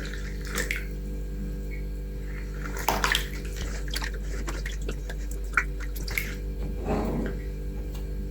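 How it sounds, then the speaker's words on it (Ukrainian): Warm water splashes and trickles into a bowl of warm milk with irregular drips and sloshes over a low steady hum. "Вливаю сюди 200 мл теплого молока і 200 мл теплої води."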